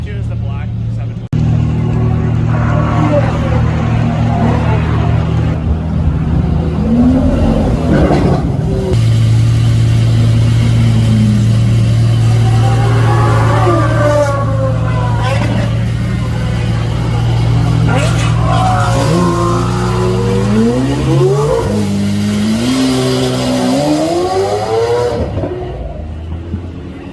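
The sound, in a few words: sports cars accelerating past at GoldRush Rally, Radford Racing School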